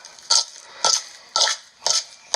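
A butter and flour mixture is worked in a bowl in five evenly spaced, dull scraping strokes, close and alone with no talk.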